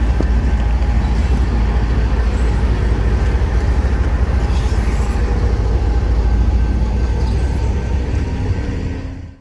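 An SD70AH Tier 4 diesel locomotive in black Norfolk Southern paint rumbles past at close range, a steady loud roar of engine and rolling wheels that holds throughout and tapers at the very end.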